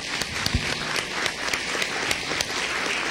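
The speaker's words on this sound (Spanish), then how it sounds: "seguramente le daremos un aplauso" Audience applause fills a conference hall on internet and human rights, a steady even clatter of many hands, moderately distant and continuous throughout.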